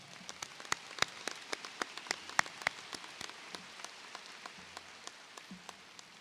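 Applause for teachers and staff at a high school graduation ceremony, steady and fairly faint, with distinct individual claps spread across a large crowd.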